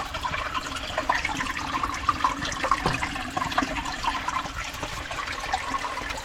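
Spring water runs steadily into a foundation trench during a cabin rehabilitation, a continuous close rush and trickle with no talking.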